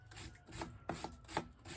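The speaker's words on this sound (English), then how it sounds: "Get some of that old grease and crud out of there." Old grease and crud scraped out of a U-joint in a few short, quiet scraping strokes, close up and irregular, with no talking.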